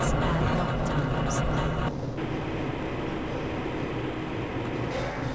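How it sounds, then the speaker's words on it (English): A train in the game Half-Life: Blue Shift rumbles steadily along its track, producing a loud, continuous low roar with faint clanks on top, and no talk audible. "This train is inbound from the Area 8 topside dormitories to the Central Transit Hub in Area 9."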